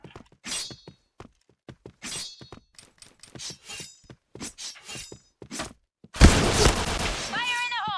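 Gunfire in the Point Blank video game on a Midtown map, a loud burst of rapid shots arriving near the end after a stretch of intermittent talking.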